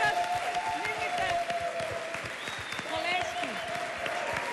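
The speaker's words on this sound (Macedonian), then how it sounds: "еден голем аплауз до нив" Audience applause at a Macedonian Idol mini concert, a dense steady clapping from the crowd running throughout with a voice talking over it.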